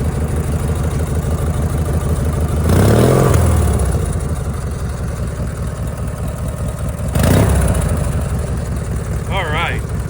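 A motorcycle engine idles steadily up close and is revved twice with the throttle, each rev a brief swell in pitch and loudness before settling back to idle, with a voice speaking over it.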